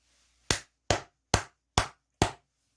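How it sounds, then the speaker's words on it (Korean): One person claps five times, sharp and close, in an even, unhurried rhythm with short silent gaps between claps and no talking. "다시 한번 크게 박수 한번 치고 가도록"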